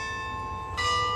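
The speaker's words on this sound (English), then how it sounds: "Got the bells going off and live music about to start." Bells ring with sustained, steady metallic tones ahead of a live music performance, swelling louder partway through.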